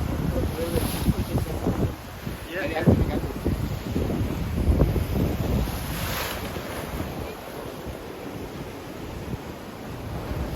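Steady rush of rough sea waves and wind buffeting the microphone near open water at the Blue Grotto, Malta, continuous and fairly loud, with no speech.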